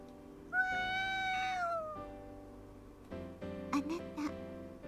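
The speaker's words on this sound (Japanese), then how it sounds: "あ、猫。 猫でしたの。" A stray cat in the video game Sweet Legacy gives a clear, drawn-out meow, followed by a second, shorter cluster of mews over game background music.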